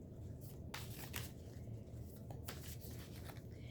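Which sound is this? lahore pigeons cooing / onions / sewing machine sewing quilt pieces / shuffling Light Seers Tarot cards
shuffling Light Seers Tarot cards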